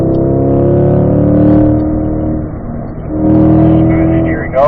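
A race car engine powers up a hill on a course with a rocky chicane, loud and close, holding strong harmonic tones that dip briefly mid-pass and then climb again as it accelerates.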